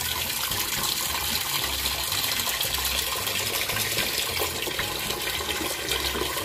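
Tap water gushes steadily into a container for soaking a rubberized-print t-shirt, a continuous broad splashing rush that stays loud and even throughout with no talk over it.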